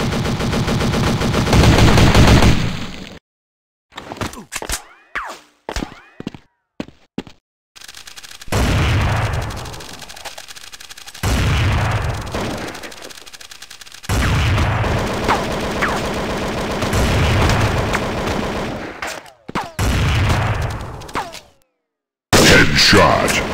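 Gunfire in the Special Ops Android 3D shooter arrives as loud bursts of rapid automatic shots and single cracks, broken by short silent gaps and a voice calling out over the action.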